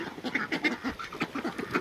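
Ducks quack repeatedly in a steady, overlapping chorus, fairly close and moderately loud, with no talking.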